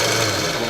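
A belt sander set up for sharpening a Gransfors Bruk Scandinavian forest axe, a dense steady grinding whir heard close and loud in a brief burst with no voices.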